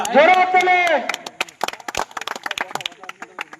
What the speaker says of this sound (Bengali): সব জোরে হাততালি দেবে বাচ্চারা।